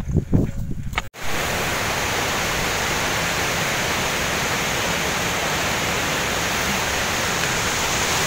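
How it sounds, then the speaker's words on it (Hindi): Forest waterfall with fast-flowing water, a steady loud broadband rush close by that fills the scene after a brief muffled start with handling noise. "देखिए पानी का बहाव वाला झरना मिल गया है"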